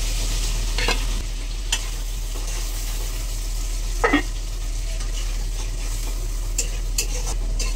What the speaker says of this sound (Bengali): এই পর্যায়ে মাংসগুলো আমরা দিয়ে দেবো।